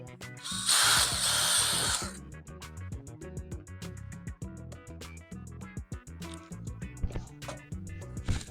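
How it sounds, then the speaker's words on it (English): A power drill bores holes in the front door of a 2014-2018 Toyota Tundra for custom speaker pods, a loud whining burst up front followed by rapid clicking ratchet-like mechanical ticks and rattles. "Come back, drill the rest of our holes."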